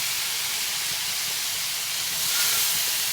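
Chopped figs fry in oil with a loud, continuous close-up hiss that swells slightly toward the end, with no talking over it.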